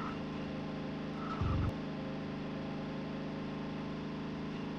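Damaged car engine in the TOCA World Touring Cars racing game, a steady mid-pitched engine drone running throughout at even level, with a brief louder low thump partway through and no voices.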